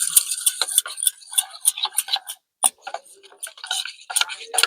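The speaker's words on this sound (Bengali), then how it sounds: "খুবই সামান্য একটু জল দিয়ে এটা মিশিয়ে নেব" A spoon stirring egg batter made with cornflour, salt, pepper and a little water in a bowl, giving quick, close clinking taps and scrapes in uneven bursts, with a brief pause midway and no talking.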